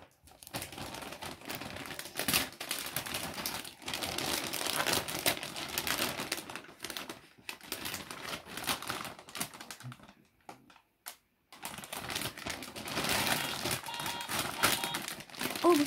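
Wrapping paper on birthday presents crinkles and crumples in repeated bursts, with short tearing and rustling sounds up close and a brief quiet gap partway through.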